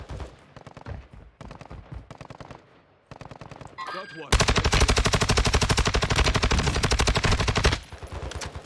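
Sustained automatic gunfire from Call of Duty: Warzone 2, a loud, dense burst of rapid machine-gun shots lasting several seconds, preceded by quieter scattered shots and game sounds.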